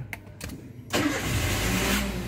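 A 2013 Toyota Avanza engine cranks with a few short bursts via a keyless push-start, then catches and settles into a steady, close idle.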